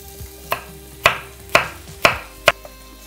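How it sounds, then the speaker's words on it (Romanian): A kitchen knife chops carrot and parsnip into cubes on a board, five crisp, evenly spaced thuds about half a second apart, close and clear with no voices. "când tai păstârnacul, prima dată îți faci baza de tăiere ca să nu-ți alunece cuțitul"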